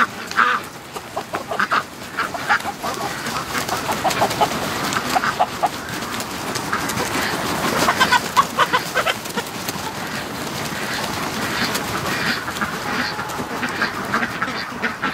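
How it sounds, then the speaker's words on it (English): A flock of ducks quacks and chatters continuously and close by, overlapping calls forming a steady, busy clamor. "The ducks are home."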